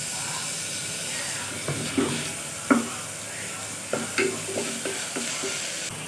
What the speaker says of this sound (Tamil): நம்ம இப்போ இஞ்சி பூண்டு பேஸ்ட்டு ரெண்டு ஸ்பூன் சேர்த்துக்கலாம்